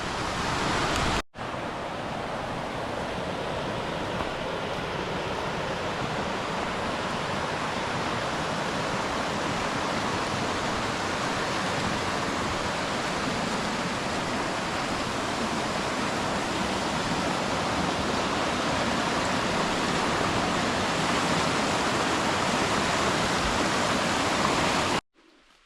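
A mountain stream rushes along the Chimney Top trail, a dense, steady roar of flowing water heard close and loud throughout, with no talking.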